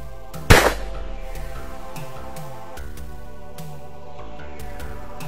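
A single loud rifle shot cracks sharply near the start during thermal scope zeroing, then fades into a steady quiet backdrop of soft repeating tones with no further shots.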